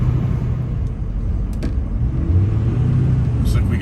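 A truck headed to a diesel transmission shop cruising down a highway, its steady loud cabin rumble of engine and tyre noise continuous throughout, with no talk.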